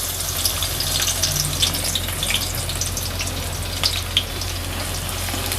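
Garlic frying in hot oil in a pan, a steady close sizzle and crackle with scattered pops, continuous with no talking.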